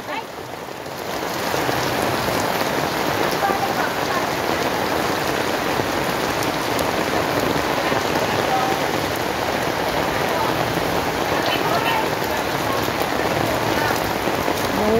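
Steady rain falling on a walk outdoors, a dense, even hiss of drops striking surfaces close by, holding at a constant level for the whole stretch with no break.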